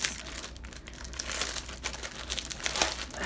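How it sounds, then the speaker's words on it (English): Close packaging crinkles and rustles in irregular bursts while antique French paper ephemera is unboxed, moderately loud with no talking. "Sorry for the crinkle."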